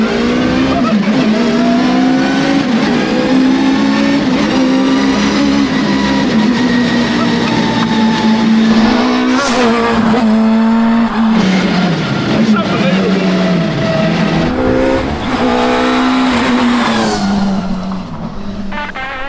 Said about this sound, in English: I think it's a Skoda Felicia based custom, literally everything, twin